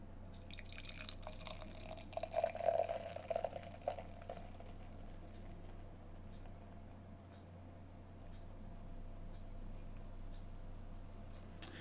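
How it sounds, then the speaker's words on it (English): Chocolate stout beer poured slowly from a can, a faint, close, bubbly trickle and gurgle in the opening seconds that settles into a quiet fizzing hiss over a low steady hum. "The theatrics of a 5-minute pour."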